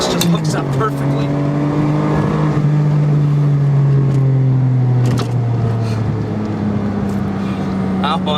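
A Ferrari 550 Maranello V12 pulling hard in first gear toward a 7,500 RPM redline, its loud, close engine note climbing steadily in pitch, with a sharp gear change or throttle blip near the end.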